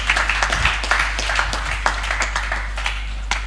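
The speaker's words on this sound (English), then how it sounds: "Please give yourselves a round of applause." Scattered clapping from a small group, uneven and fairly close, over a low steady electrical hum.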